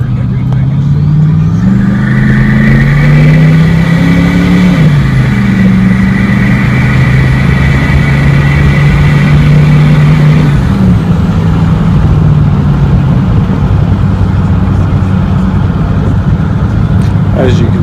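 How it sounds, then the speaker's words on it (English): Turbocharged Ford Bronco engine running loud and close, its pitch rising and falling with revs and a whining tone riding above the rumble, while a voice talks over it. "As you can see, my Bronco runs pretty good. I enjoy the turbo."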